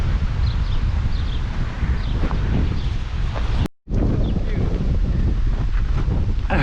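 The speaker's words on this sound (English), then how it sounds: "it's a windy day" Strong wind buffets the microphone at a campground on a windy day, loud and continuous rumbling gusts that briefly cut out before resuming.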